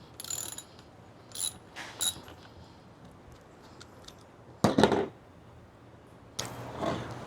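A ratchet clicking in short bursts while parts of a PRL intake are tightened on a 2025 Honda Civic Type R, quiet gaps between a few brief rattling spells, close by.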